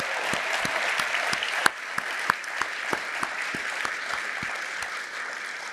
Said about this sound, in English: Let's give a round of applause to having a full room tonight.